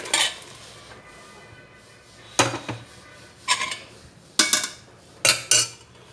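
Cooked green gram for a Kongu-style curry is moved into a vessel and mashed, giving a few distinct clattering knocks of utensil on metal pot spaced through a quiet stretch, with no talk.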